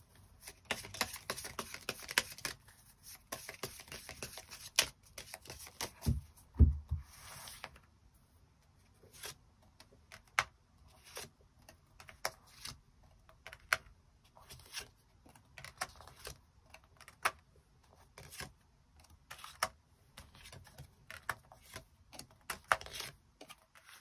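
Tarot cards are shuffled and handled across a quiet table, with sparse, soft clicks and flicks arriving in irregular clusters and no voices.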